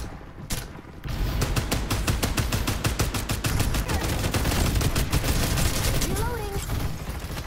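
Rapid automatic gunfire from guns in the video game Farlight 84, dense continuous bursts of loud close shots with mechanical clacks, lasting several seconds after a brief quieter start.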